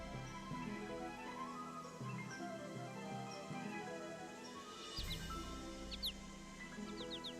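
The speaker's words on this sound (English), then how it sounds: "I hear birds." Small birds chirping in the Nancy Drew game Ghost Dogs of Moon Lake: faint, high, brief calls scattered over a steady outdoor ambience of insects and low hum, with no talk.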